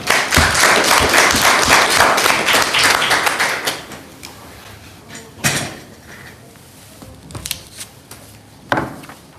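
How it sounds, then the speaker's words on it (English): A round of applause at a council meeting, several seconds of close, full clapping that dies away into scattered claps, knocks and room noise with thuds near the end. "So we can just have a round of applause for them first."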